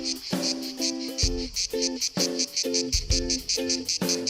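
A loud, steady cicada buzz pulses in quick regular bursts outdoors in Croatia, with tonal chirps or calls mixed in beneath it.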